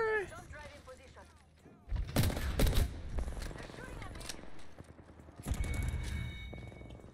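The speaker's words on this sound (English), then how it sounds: "They're shooting at me." Enemy gunfire in a video game, a few loud, close bursts of shots in two clusters separated by quieter game sounds, with a voice talking at points.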